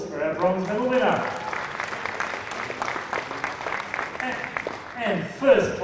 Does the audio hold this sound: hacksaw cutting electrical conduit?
no